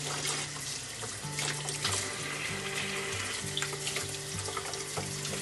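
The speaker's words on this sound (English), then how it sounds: "If your sink has one of these detachable things or a spray, that works really well." Lukewarm water from a detachable kitchen sink sprayer rinses soil off bonsai roots, a steady close hiss and splatter with faint uneven patter as the stream shifts, and no talking.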